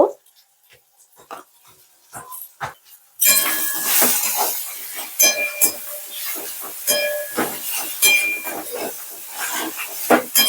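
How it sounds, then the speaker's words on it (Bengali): Spice paste for egg curry fries in a pan, a quiet few seconds of scattered taps giving way to a sudden loud, bright, continuous sizzle with crackling pops throughout, heard close with no talking. "মশলাটা ভালো করে কষিয়ে নিচ্ছি"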